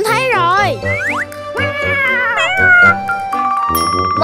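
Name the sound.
kitten meowing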